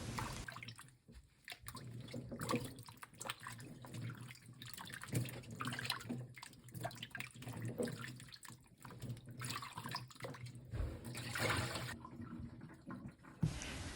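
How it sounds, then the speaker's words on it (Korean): Raw beef short ribs are rubbed and rinsed by hand in a sink of water, with running water, sloshing and splashing continuing close up and fairly steady, with no talk. "1시간 정도 핏물을 빼고 고기를 손으로 문질러 가며 깨끗이 씻어줍니다."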